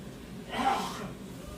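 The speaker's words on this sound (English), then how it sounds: "Blow my nose because it feels it's drippy with all the spice I've been smelling." Someone blows their nose at home while cooking spicy chili meatballs, a single soft, breathy blast of about half a second, close by against a quiet room.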